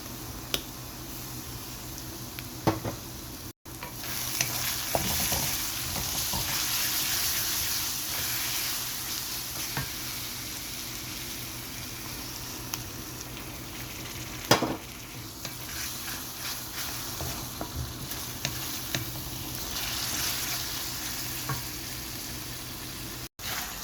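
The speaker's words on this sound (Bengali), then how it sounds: "ভেজে নিচ্ছি চিকেনের জন্য মশলা তৈরি করে নিয়েছি এখন আমি মশলাটা ঢেলে নিচ্ছি" Spice masala for chicken kosha fries in oil in a pan, giving a steady sizzle for a long stretch with frequent small scrapes and clicks as it is stirred.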